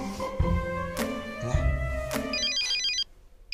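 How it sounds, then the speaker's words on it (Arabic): A telephone rings with a bright, melodic ringtone pattern over a steady background, then cuts off. "تليفون ويصوني، تليفون ويصوني"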